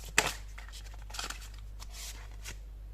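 Tarot cards get shuffled and drawn in a quiet room: a sharp riffle burst near the start, then a few softer card flicks and slides, close and faint, over a low steady electrical hum.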